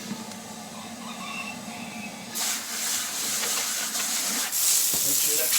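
Water rushes and hisses through an aquarium filter intake tube being rinsed, a steady close spray that turns louder and brighter partway through and keeps going to the end.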